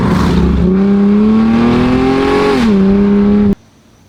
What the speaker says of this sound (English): One of them is the exhaust leak that you can probably hear.